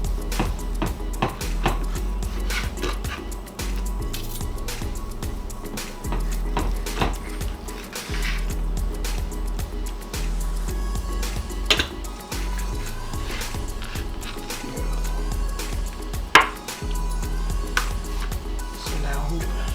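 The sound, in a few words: knife cutting steak into thick pieces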